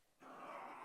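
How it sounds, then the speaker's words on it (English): A dog growls and whimpers up close in a short burst that sets in suddenly and keeps a steady rough tone to the end. "my dog went crazy"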